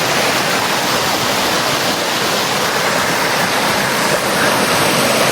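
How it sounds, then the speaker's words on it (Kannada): A waterfall below Hosahalli hill, running at reduced flow after a light rain season, makes a loud, unbroken roar of rushing water that stays close and constant throughout, with no voices. "ಇದು ಹೊಸಳ್ಳಿ ಬೆಟ್ಟದ ಕೆಳಗಡೆ ವಾಟರ್ ಫಾಲ್ಸ್ ಇದೆ, ಬನ್ನಿ."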